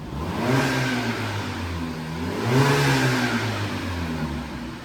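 A naturally aspirated 2.0-litre, 166 hp Jeep Compass engine revs up twice with its stainless exhaust diffuser closed, a steady mid-pitched roar that rises and falls, close and loud, with no voices.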